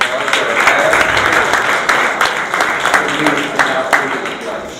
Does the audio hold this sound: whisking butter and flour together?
no